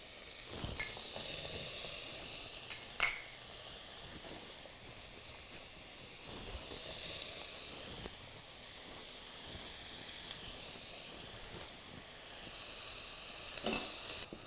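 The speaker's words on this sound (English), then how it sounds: "So then let's get these apples in. We got to get our apples cooking." Apples sizzle steadily in a hot pan with onions, garlic, ginger and spices for a masala chutney. The hiss is close and continuous, with a few scraping stirs and small bumps along the way.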